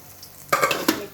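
Fish frying in a pan in a home kitchen, a brief burst of sizzling that begins abruptly and carries a quick clink or stir partway through.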